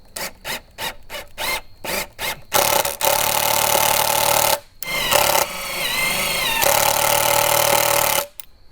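Several short bursts of a power drill running in reverse with a screw extractor on a stuck screw, close by, then longer sustained whirring runs with pitch shifts, stopping and restarting before a final cutoff.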